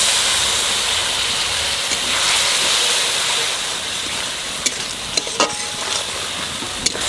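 Spiced water, with ground coriander and green and dry chillies, is poured into a hot pan of baga fish curry, setting off a loud, steady sizzle and hiss broken by a few sharp clicks of stirring.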